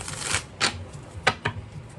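Tarot cards being shuffled by hand, a few quick riffling bursts and soft flicks spread over two seconds, close and fairly quiet with no voices.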